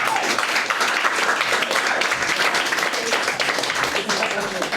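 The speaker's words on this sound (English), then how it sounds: "well, give yourselves a hand" A comedy club audience in Greenwich Village applauds, loud dense clapping close by that holds steady for several seconds, with a few voices calling out underneath.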